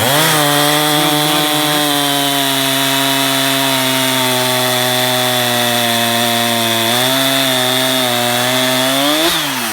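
A homemade wood processor's chainsaw cuts through clean wood with a loud, steady, close whine, its pitch sagging slightly as the chain bites and rising again near the end.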